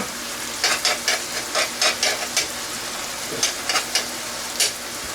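Two garlic cloves sizzling in a hot pan for cottage pie, a continuous crackling fry broken by bursts of spattering pops and stirring scrapes, close and fairly loud with no speech.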